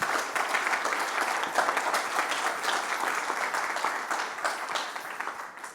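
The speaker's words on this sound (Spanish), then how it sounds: "Un fuerte aplauso, por favor." Audience applauding at the close of a panel on artificial intelligence in the professions, dense sustained clapping from a full room, steady and even for several seconds.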